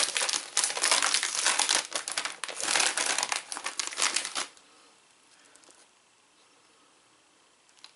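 Crinkly plastic bag of Cape Cod BBQ ranch waffle cut kettle chips being opened, loud dense crackling rustle for about four seconds, then dropping to quiet faint handling noise.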